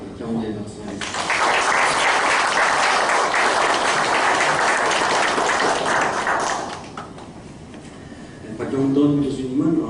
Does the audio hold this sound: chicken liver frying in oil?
no